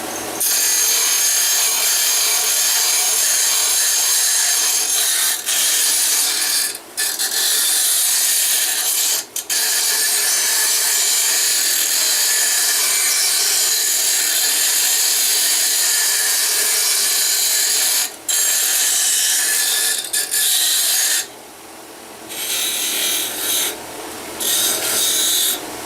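Wood is squared up and its corners rounded off for a woodlathe banjo lamp, producing a loud, continuous abrasive rasping that runs almost nonstop, broken by a few brief pauses and a quieter stretch near the end.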